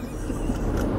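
Steady low road rumble of a car being driven to a grocery store, heard from inside the cabin as a continuous, even drone with no talking.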